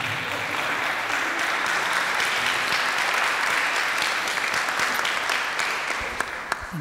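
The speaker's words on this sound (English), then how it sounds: "If you could give Mr. Johnson a round of applause" Audience applause after a lecture at Tuskegee University, a dense steady clatter of many hands clapping close by for nearly seven seconds, tapering slightly at the end.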